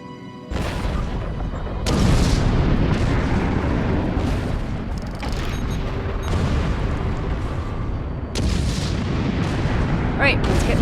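Heavy booming explosions from a bombing run in Star Trek Online, a continuous rumbling barrage with several sharp louder blasts breaking through, loud and close, with a voice faintly beneath.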